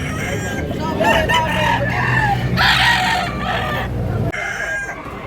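Roosters crowing and chickens clucking at a busy fowl market in Tabunok, Cebu, several birds overlapping in loud, drawn-out calls amid a murmur of crowd noise.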